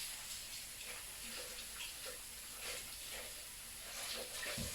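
Water runs in a continuous soft hiss while something is rinsed, fairly faint and steady with small splashy variations and no talking.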